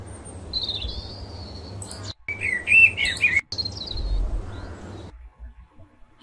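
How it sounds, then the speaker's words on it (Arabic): Small birds chirp in quick high tweets, several calls overlapping, fairly close over a low background hum. "صوت عصافير، يعني اصوات ممكن نعتبرها اصوات خارجيه."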